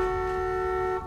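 A single sustained car horn in The Walking Dead video game blares at a steady pitch for about a second, then cuts off.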